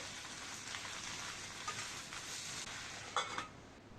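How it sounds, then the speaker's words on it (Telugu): Malabar spinach fries in a pan, giving a steady soft sizzling hiss with occasional light stirring scrapes, close and even, with no voices. "ఇది కూడా ఒక ఐదు నిమిషాలు మంచిగా ఫ్రై చేసుకోవాలి"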